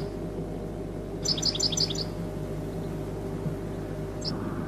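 Goldfinches chirping in a rapid cluster of bright tweets, then a single later call, over steady background hiss and hum.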